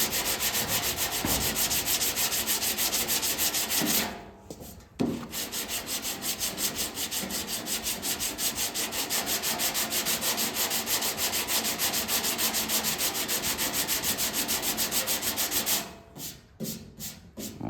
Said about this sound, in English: So hit with this 80 grit.